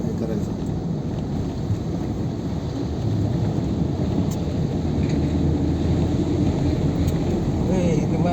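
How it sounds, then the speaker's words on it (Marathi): Heavy rain drums on a car driving through the Lonavala ghat on the Mumbai-Pune route, a constant loud low roar mixed with wind buffeting, with faint voices in the background. "पाऊस तर खूप आहे भरपूर पाऊस आहे"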